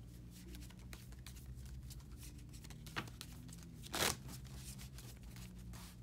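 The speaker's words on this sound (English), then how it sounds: "I will shuffle part of the main deck." Unsleeved DC Deck-Building Game cards being shuffled by hand on a table: soft, rapid riffling and shuffling patter with a couple of sharper card snaps, close but quiet over a faint background hum.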